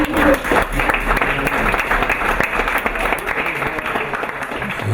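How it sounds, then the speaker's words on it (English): Dense, sustained audience clapping at an international health-promotion and yoga symposium, a loud continuous wash of many hands with no pauses across the whole stretch. "so I think we clap"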